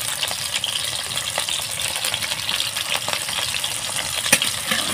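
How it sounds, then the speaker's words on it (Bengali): Potato pieces frying in a pan give a steady, close crackling hiss with faint pops and an occasional louder tick, continuous and unbroken, with no voices. "আমি আলুটাকে সুন্দর করে ভেজে নেব।"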